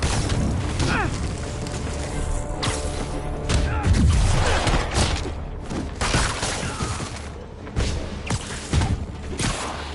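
A grenade blast in a Spiderman video game, a heavy booming explosion with debris crashes amid a busy, loud mix of game action and impacts.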